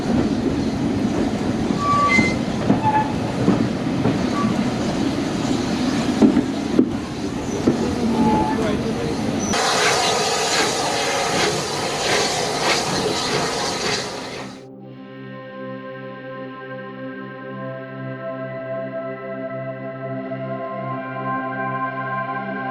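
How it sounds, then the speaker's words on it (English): A Swanage steam train runs on the rails toward Corfe Castle, giving a steady close rolling rumble with rail clatter that turns brighter and hissier partway through. After about fourteen seconds it cuts to sustained, evenly held tones. "we'll take it in style on the steam train."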